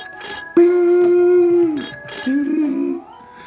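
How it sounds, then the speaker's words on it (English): A notification bell sound effect rings out as a few bright, clear chimes with ringing overtones that hold and then fade, loud and close with no talking. "turn on the bell notification"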